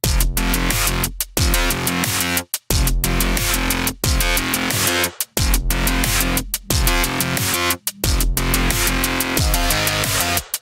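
A dense, loud cyberpunk bass patch from the Europa synth in Reason 12 plays a driving, continuous pattern with brief rhythmic dropouts and sustained tones, alone and without any voices.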